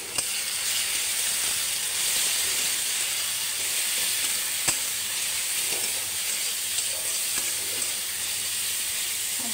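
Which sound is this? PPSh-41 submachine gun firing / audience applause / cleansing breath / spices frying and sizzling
spices frying and sizzling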